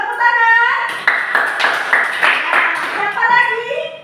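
A classroom of children claps hands in a rhythmic patterned beat under loud group chanting and a teacher's voice, sharp claps recurring at a steady pace.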